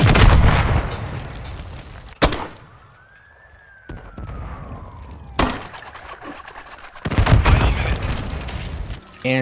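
Sharp, loud gunshots crack in separated bursts during a Modern Warfare III match, with a whistling projectile sweep between them and dense firing clustered near the end.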